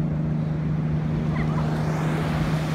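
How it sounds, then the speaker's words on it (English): A jet ski engine drones steadily on the ocean off Ocean City, New Jersey, a constant low hum under loud, rushing wind and surf. "A jet skier over there."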